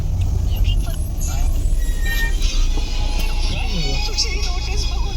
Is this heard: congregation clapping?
no